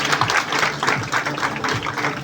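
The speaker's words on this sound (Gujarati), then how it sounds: "આપણા મહેમાનશ્રીઓને આપણે તાળીઓના નાદથી સ્વાગત કરશું" An audience at a 15 August event claps to welcome guests, rapid overlapping clapping of a moderate crowd that runs loud and steady for a couple of seconds.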